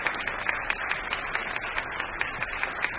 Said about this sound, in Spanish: Aplauso, aplauso a las maderas, aplauso